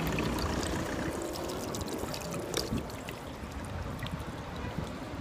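A water fountain in Armenia splashes and trickles continuously nearby, a dense steady wash of falling water with small irregular drips and splashes and no voices over it.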